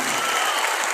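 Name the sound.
audience applause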